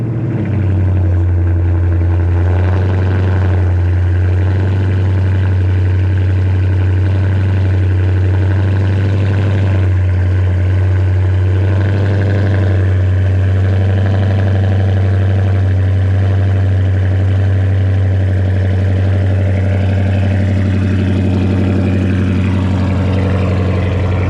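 A Chrysler 300 idling steadily just after a cold start, a loud, constant low engine rumble running the whole time with no talking.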